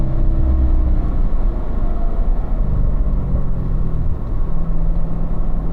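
A Corvette on a racetrack brakes and downshifts, a continuous loud engine and road rumble heard from inside the car, droning evenly throughout.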